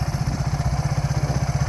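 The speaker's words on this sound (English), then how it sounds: "It's as you can hear, it's just barely idling, running great." A 1987 Suzuki SP 200 dual-sport motorcycle with knobby tires idles low and steady, its close, even, thumping exhaust pulses repeating rapidly without any speech.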